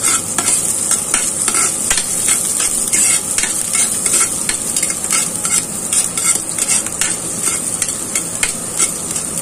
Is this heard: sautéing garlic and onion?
yes